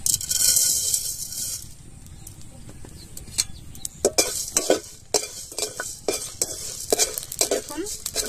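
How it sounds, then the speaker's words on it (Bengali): Whole dried red chillies and spices fry in a hot wok (kadai) with a sharp sizzle at first, then quieter frying broken by a series of close metallic scrapes and clinks from stirring. "মশলা ভাজা হচ্ছে আর শব্দ হচ্ছে"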